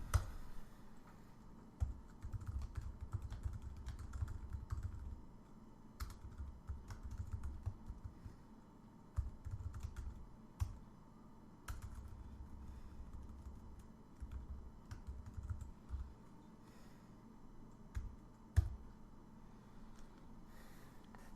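Code is tapped out on a computer keyboard in quiet, close bursts of rapid clicking, broken by short pauses and a few sharper key strikes, with no one talking.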